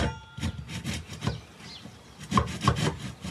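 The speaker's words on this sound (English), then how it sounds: "let's see if the sink actually fits in." A sink being pushed into a cutout in a wooden worktop in a campervan, with close, irregular scraping and rubbing of wood and a few knocks as it is worked into place, no talking.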